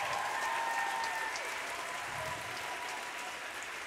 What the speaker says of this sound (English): Please give another round of applause to these incredible poets.